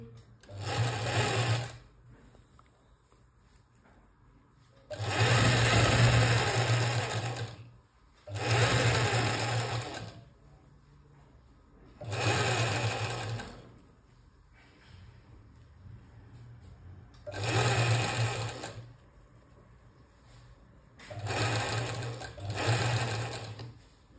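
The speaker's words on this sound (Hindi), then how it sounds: "फिर यहाँ से हम सिलाई लगाना स्टार्ट करेंगे" A sewing machine runs in repeated bursts while stitching a princess-cut blouse, seaming fabric toward the lining side; seven loud, close whirring runs of one to three seconds each are separated by quiet pauses.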